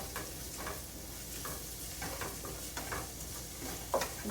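Ginger and garlic frying in a hot pan turned up high, giving a steady close sizzle with occasional stirring scrapes.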